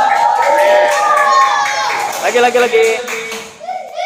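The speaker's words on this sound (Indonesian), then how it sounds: "Keren, tepuk tangan." Children in a classroom break into a short burst of clapping that is loud and close and fades within a few seconds, with a teacher's voice speaking over it.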